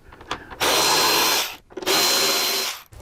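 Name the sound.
power tool removing wind deflector bolts from motorcycle fairing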